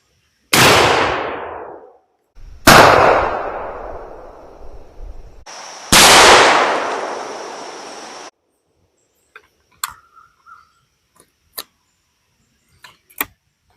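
Three loud 12-gauge shotgun blasts firing Winchester Super X 2.75-inch game loads outdoors at a target, each sharp crack trailing off, followed by a few faint clicks and clanks of handling the gun.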